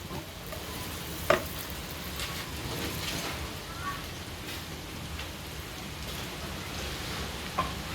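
Onions frying in a pan for carbonara give a quiet, steady crackling sizzle, with a couple of sharp utensil clicks against the pan.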